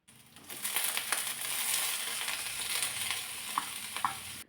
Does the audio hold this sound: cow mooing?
no